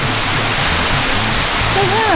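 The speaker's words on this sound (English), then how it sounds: "But it is a waterfall." A small jungle waterfall on Koh Chang, Thailand, makes a steady, loud broadband rush of falling water that fills the whole clip. A faint bird whistle comes in near the end.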